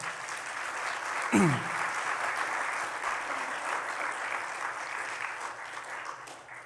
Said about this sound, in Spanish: ¿Le podemos dar un aplauso a Cristo?